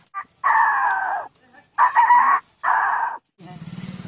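A voice mimics a rooster crowing in three loud, drawn-out calls, each held about a second, followed by a short rapid clucking burst close to the microphone.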